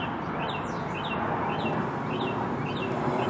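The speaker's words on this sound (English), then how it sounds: "The bird is trying to sing louder than the plane." A bird sings repeated bright chirping phrases at a steady rhythm over a constant roar of airplane noise near an airport.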